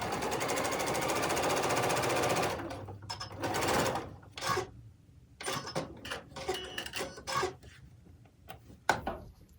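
A sewing machine runs fast and steady for about two seconds, joining quilt squares to half-square triangles, then stops; fabric rustling and handling bumps follow.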